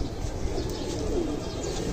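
Low, soft cooing from a grey pigeon, close and faint, over a steady background hum at a pigeon loft in Habiganj, Bangladesh.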